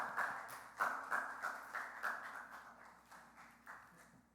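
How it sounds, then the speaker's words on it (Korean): A church youth-service congregation gives encouraging applause as flowers and a gift are presented, steady rhythmic hand claps repeating at a brisk even pace and gradually softening over a few seconds. "우리 함께 박수로 격려했으면 좋겠습니다"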